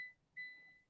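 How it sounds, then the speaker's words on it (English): Car seatbelt warning chime sounding inside a vehicle after the belt is unfastened: two clean electronic beeps, a short one then a longer sustained tone, fairly faint and alone. "But excuse the beeping."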